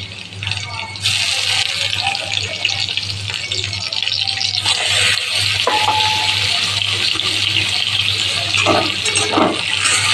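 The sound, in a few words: ridge gourd frying in pan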